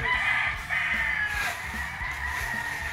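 A white kelso gamefowl rooster crowing close by, a strained, harsh call with low background bustle and faint clucks from other fowl around it.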